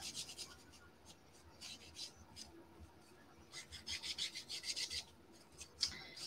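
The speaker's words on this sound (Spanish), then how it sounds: "Aquí lijaremos ahora" Quiet, repeated rasping strokes of sandpaper rubbing on a wooden frame, coming in uneven bursts with faint background voices.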